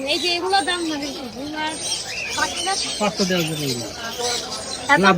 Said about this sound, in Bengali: এখানে বাজরিগার, তারপরে হচ্ছে এগুলাকে কাকাতুয়া না কি যেন বলে